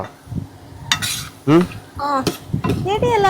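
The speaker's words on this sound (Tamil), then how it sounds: "கடைசியாக மிளகு பொடியை போட்டு இறக்கிடுவோம் ஃப்ரெண்ட்ஸ்." Pepper powder being stirred into a dish in a pan on the stove as the last step of a home recipe: close scraping and clinking of a spoon against the pan with faint sizzling, while a voice talks intermittently over it.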